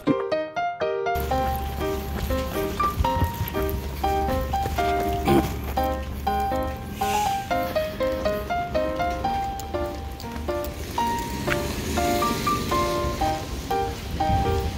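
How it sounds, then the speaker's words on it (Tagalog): Heavy rain falls on a street and umbrellas while travellers wait to board a bus in Europe. It makes a steady, dense patter and hiss that runs throughout, mixed with prominent tonal music-like sounds. "Lumalakas ang ulan."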